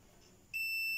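A multimeter set to continuity lets out a sudden steady buzzer beep that starts partway through and holds to the end, high-pitched and clear over a faint room hiss.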